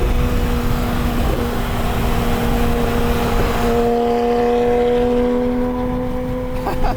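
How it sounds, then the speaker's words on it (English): A GT3 sports car engine drones steadily from inside the cabin while driving, a loud sustained hum with shifting tones and no talk. "I'm gonna drive the GT3."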